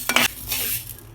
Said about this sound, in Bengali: যে মুসুরের ডালটা হালকা করে ভেজে নিচ্ছি